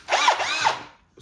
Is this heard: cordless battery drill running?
yes